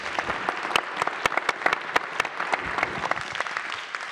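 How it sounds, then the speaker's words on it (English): An audience applauding the speakers at the close of a panel on Earth observation trends, a brief burst of dense, steady clapping from a modest crowd with no voices over it. "A big round of applause for all the speakers"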